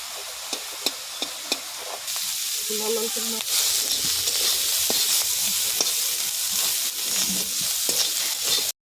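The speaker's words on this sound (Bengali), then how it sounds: "শুকনো লঙ্কাটা ওর মধ্যে ভেজে নেব" Dried red chillies fry in hot oil in a pan, a continuous close sizzle with a few sharp clicks of a utensil near the start.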